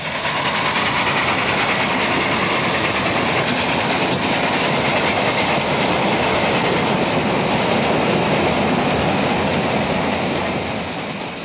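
A toy train runs on rails set up on a living-room carpet, a loud continuous rattling rumble with rhythmic clickety-clack, close and steady throughout.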